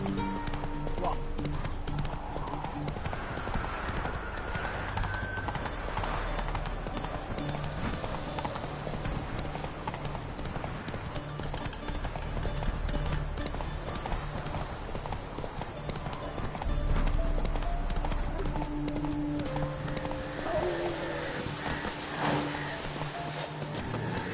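A horse trots with steady, close clip-clop hoofbeats that continue evenly throughout, set against a dense background bed with occasional talk.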